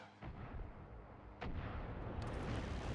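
Rocket launcher fire in Far Cry 6: a low booming blast rolls out, then a second heavier boom lands and a loud rumbling roar carries on to the end, with no talk over it.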